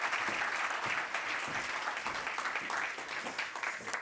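A crowd applauding steadily at an award ceremony, dense clapping that holds at an even level for the whole stretch.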